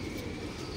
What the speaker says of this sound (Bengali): এই হলো আমাদের চ্যাম্পিয়ন কবুতরটা